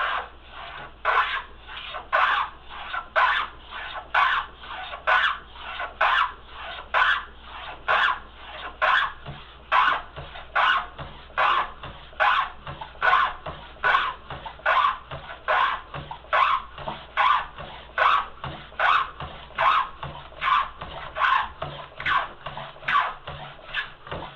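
A Stanley #45 plane cuts tongue and groove joints in wood with a long run of quick, steady, evenly spaced rasping strokes, close up and without speech.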